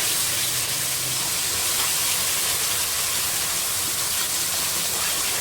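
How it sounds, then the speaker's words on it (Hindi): Chicken kofta curry masala of salt, turmeric and coriander powder frying with a little water added, a steady close hiss and sizzle that holds evenly the whole time with no talk. "इसको मैं 4 से 5 मिनट तक थोड़ा सा पानी शामिल करके तो मैं इसको भूनूँगी।"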